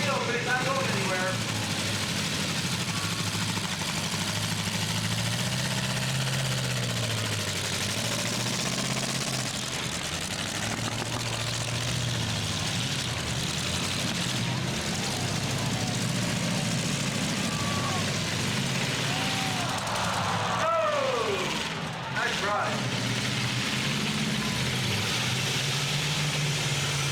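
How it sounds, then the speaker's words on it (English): A pickup or SUV in a demolition derby in Evansville, Indiana, revs hard and spins its wheels without moving, a loud droning engine with rising whines and tire noise among other idling vehicles, voices murmuring underneath. "The 22S is spinning his wheels, but he's not going anywhere."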